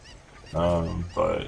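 Squawking chicken (cucco) in the video game Zelda: Ocarina of Time, two loud honking cries in quick succession, the first longer, alone with no talk.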